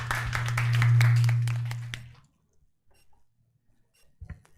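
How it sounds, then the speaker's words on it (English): Audience applauding at a stage event, a burst of many hands clapping over a loud low hum that peaks and then cuts off halfway, leaving near silence with a few faint scattered noises. "Everyone, round of applause, please."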